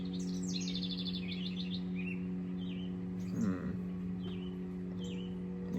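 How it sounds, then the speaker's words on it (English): Birds chirp and tweet outdoors in short, bright, repeated bursts over a steady low hum, with a brief louder rustle or call in the middle. "these birds are going off"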